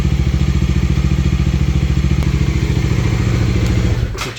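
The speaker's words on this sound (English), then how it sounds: "Switching off the engine" Engine running at a steady, loud pulsing idle, then cut off near the end, the rumble stopping abruptly with a brief clatter as it dies.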